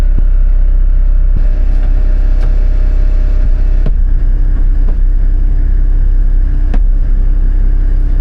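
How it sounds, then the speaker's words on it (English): Steady, loud road and engine drone inside a Toyota Land Cruiser Troopy under way, with occasional sharp knocks and small rattles from the suspension underneath, and no talking. "there's still a few little rattles"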